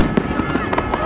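New Year fireworks exploding over Ploiești, a quick series of loud sharp bangs and crackles close by, several bursts within about a second, with people talking over them.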